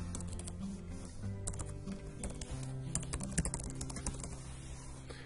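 Fingers type on a computer keyboard at a quiet desk, tapping out a run of irregular, closely spaced keystrokes with small pauses, near and fairly soft, with no talking.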